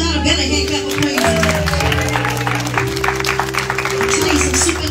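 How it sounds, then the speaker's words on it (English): Church congregation clapping in praise, a dense, continuous rattle of many hands over sustained keyboard chords and vocal sounds, loud and unbroken. "Y'all better give God a better hand clap of praise"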